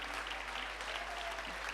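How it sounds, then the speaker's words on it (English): A crowd claps steadily for a couple of seconds, a soft, continuous patter of applause heard from a little distance. "big round of applause, please"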